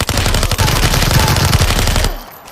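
An MP5 submachine gun fires a loud, rapid automatic burst in the shooter game Super People, close and sustained for about two seconds before cutting off into a short fading tail.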